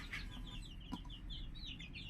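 Native chickens cluck on a farm in a soft, quiet, continuous background of calls, with a single sharper cluck near the middle.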